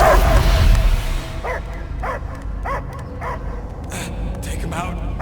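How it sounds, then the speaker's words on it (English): Cosmo the dog in the Guardians of the Galaxy video game barks in a run of short sharp yips and barks, roughly evenly spaced, after a louder rumbling opening. "I hear only barking!"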